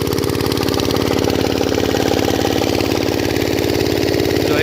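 A fitter irrigation pump engine runs in a maize field, loud and close, with a steady, even chugging throb throughout.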